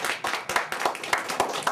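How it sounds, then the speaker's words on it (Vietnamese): Audience clapping at a Vietnamese Buddhist temple ceremony in Cleveland, a quick run of sharp, close hand claps in an uneven rhythm, several people applauding together. "Xin quý vị cho một tràng pháo tay"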